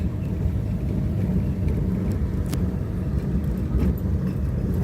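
A car moves through traffic in Montego Bay, Jamaica, giving a steady, close low rumble of road and engine noise that holds evenly throughout, with a faint brief swish partway through.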